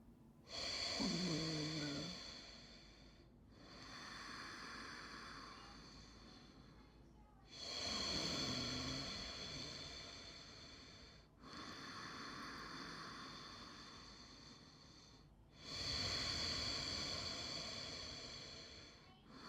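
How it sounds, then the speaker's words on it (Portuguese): Ujjayi breathing drawn through the nose with a narrowed throat, a loud rasping, ocean-like hiss in four long slow breath cycles separated by brief pauses, heard close and alone. "para você ouvir bem o som que sai aqui na minha garganta"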